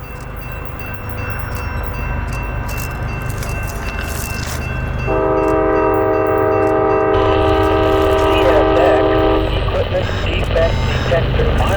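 A CSX coal train passes at Tunnel Hill siding with a heavy, continuous rumble of wagons, while the locomotive's horn sounds one long, loud blast in the middle.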